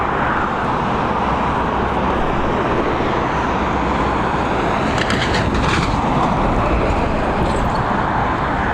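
An airplane, a 72-600 series turboprop, landing at Dublin Airport: a loud, steady broadband roar of engines and rushing air throughout, with no pauses.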